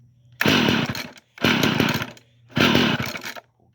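Two-stroke tiller engine catching and running in three bursts of roughly a second each, separated by short gaps as it fires, dies and refires, loud and close with a faint low idle hum underneath.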